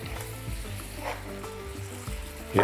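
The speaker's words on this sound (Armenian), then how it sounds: "եփում ենք այնքան, մինչև մսակտորները կարմրեն։" Pieces of beef brisket sizzle and fry in a pot, a steady close crackle with occasional stirring clinks and a louder scrape at the end.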